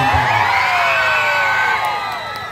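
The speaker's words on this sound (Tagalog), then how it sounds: "marinig lang namin ang sigawan ninyo" A crowd at a campaign rally shouting and cheering, loud massed voices with rising and falling yells and whoops blending into a sustained roar that eases slightly toward the end.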